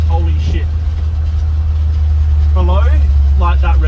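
A Ford F100 truck engine fitted with a 650 double pumper carburetor runs with a steady, deep, close rumble, while people talk over it.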